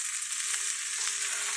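Hot dogs and mixed corn, peas, carrots and green beans fry in a pan with a steady, bright hissing sizzle, close and constant, and no speech.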